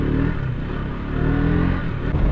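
A KTM motorcycle engine rumbles steadily at close range, a continuous low idle with slight rises in revs and no talking.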